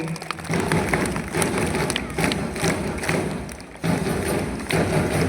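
A school audience at a sports achievement ceremony gives a sustained round of applause for a bronze-medal student, heard as a steady, rain-like wash of many hands clapping in a large space.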